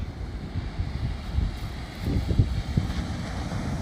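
Sea waves and wind along a long beach on a large island in Spain, with low, rumbling wind buffeting the microphone and surf washing steadily without talk.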